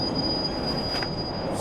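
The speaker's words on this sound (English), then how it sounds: "Your train is here. It'll be leaving soon." A train in the video game Torn Away squealing its wheels on the rails as it moves through a station, a steady metallic screech with a high whine over rumbling cars.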